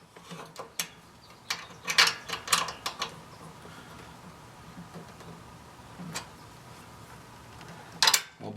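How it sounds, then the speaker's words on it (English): Close, crisp ratcheting clicks in short bursts as M6 socket head bolts are tightened down on the front bracket of a BMW R1200RTW, with pauses between runs and a final quick flurry. "I'm going to tighten this front bracket down"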